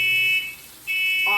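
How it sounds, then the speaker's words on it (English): A newly reconnected kitchen smoke detector shrieks in loud, piercing high-pitched beeps, pausing briefly before sounding again, close by and with no talk over it. "My husband just reconnected the smoke detectors, like new ones, yesterday"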